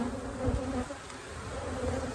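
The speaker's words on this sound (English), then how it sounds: "Did I squash a bee or two?" Honeybees buzzing densely around a hive box, a close, steady hum of many wings with no voices.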